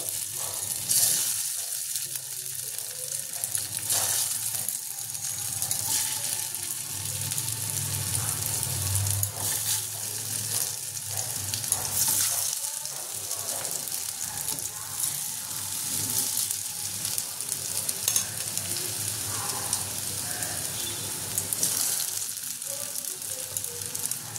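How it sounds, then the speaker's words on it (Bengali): Prawn dhoka (lentil cakes) sizzling and frying in hot oil, a continuous crackling hiss close up, with occasional clinks and stirring throughout. "এবার আমি ধোকাগুলো ভাজার জন্য ধোকাগুলো দিয়ে দেবো এর মধ্যে একে একে।"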